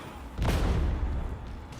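A grenade exploding in the Darktide video game, a single heavy boom with a deep rumbling tail that fades over about a second and a half.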